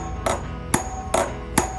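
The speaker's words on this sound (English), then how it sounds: "hammer on the raker tooth at just the right spot to bend it without breaking it" Four sharp metallic strikes of a specially designed hammer on a crosscut saw's raker tooth at a steady, unhurried pace, each a bright ringing tap against a faint background hum.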